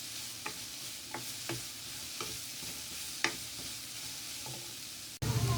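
Chicken cutlet mixture with cumin frying in a pan, a soft continuous sizzle broken by several sharp spoon scrapes and stirs at an irregular pace, then a louder sizzle at the end; no talking.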